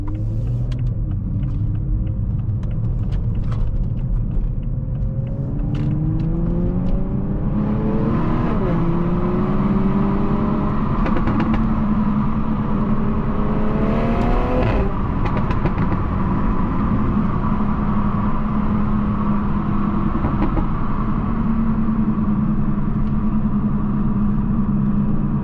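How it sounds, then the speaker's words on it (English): A turbocharged car fitted with an aftermarket downpipe revs loudly up close, its engine note climbing in repeated sweeps over a deep steady rumble as the turbo spools. "It's just a turbo spool for me"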